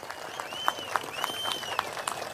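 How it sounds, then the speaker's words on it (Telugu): A crowd at a political rally breaks into steady applause, many hands clapping in a dense, continuous patter, with a few sharper claps and a faint whistle standing out. "గట్టిగా చప్పట్లు కొట్టి అభినందించండి."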